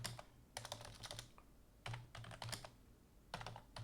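Bursts of keystrokes on a computer keyboard as a git config command is typed, clattering in quick clusters separated by short pauses, close and fairly quiet with no talking.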